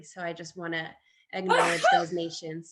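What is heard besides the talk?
sneeze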